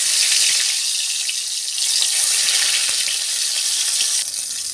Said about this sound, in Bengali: এবার তেল ভালো করে গরম করে মাছ দিয়ে দেব।